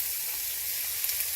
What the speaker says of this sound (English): You hear that? A little sizzle.